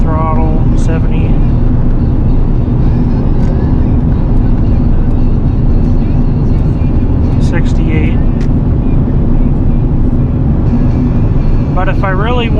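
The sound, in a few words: 8.1 gas V8 truck engine towing uphill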